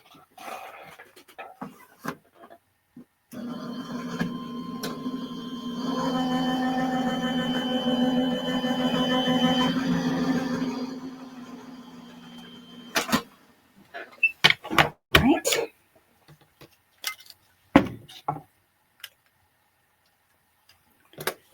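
A card is cranked through a die-cutting machine: a steady mechanical whir and grind lasting several seconds, close and moderately loud, then scattered clicks, taps and paper handling around it.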